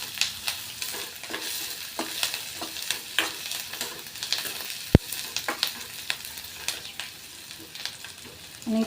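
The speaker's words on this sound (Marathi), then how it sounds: "आणि कांदा लाल होईपर्यंत असंच हलवत राहायचं आहे." Onion frying in a pan, stirred continuously until browned for a tomato-onion chutney, with close scraping strokes and crackling sizzle throughout and one sharp knock midway.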